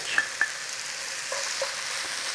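Tomatoes cooking down in a pan toward a jammy consistency, giving a steady, quiet sizzle with a few soft stirring clicks, no voices.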